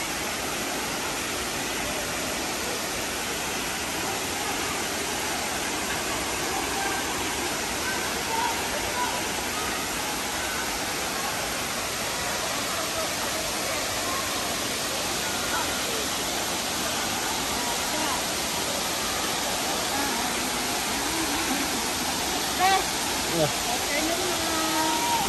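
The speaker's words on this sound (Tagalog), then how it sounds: "Ang ganda ng Tinago Falls." Tinago Falls pours in a constant dense roar of falling water, loud and steady for the whole stretch, with no break or change.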